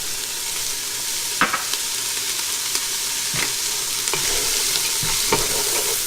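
Chopped vegetables and green onion sauté in a pan for a creamy chicken tortilla soup, giving a steady close sizzle broken by a few sharp spoon strikes and scrapes against the pan. No one talks.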